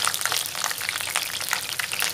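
Onions frying in oil for chicken maqluba while a spoon turns them, a steady close hiss and crackle of sizzling with faint stirring, no voices.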